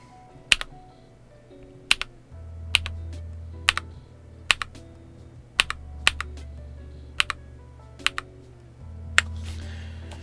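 Typing on a pink transparent KiiBoom Phantom68 mechanical keyboard, with crisp, evenly spaced keystroke clacks in a steady rhythm, close and clear over a low background hum, no talking.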